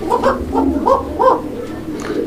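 Repeated soft cooing calls from pigeons, several rolling coos in a loose rhythm, fairly close with a faint murmur of other birds behind.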